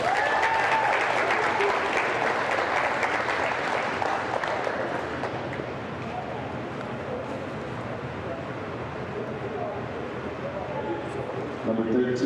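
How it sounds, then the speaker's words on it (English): A gym crowd applauds and cheers for the Sterling Lady Knight senior girls' volleyball players at a home match against Pennsauken. The applause is broad and sustained, loudest at first and then easing, with crowd noise and a voice over the PA mixed in. "a round of applause for your Sterling Lady Knight seniors"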